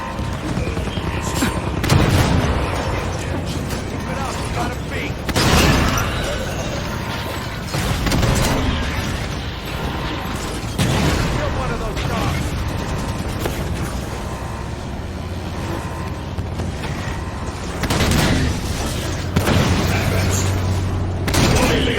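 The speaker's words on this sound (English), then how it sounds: "Scorpion spread some fire!" Heavy cannon blasts from a Scorpion tank in the Halo 5: Guardians video game, several loud booms spaced across a busy battle soundscape of mechanical clatter and other gunfire, with voices calling out now and then.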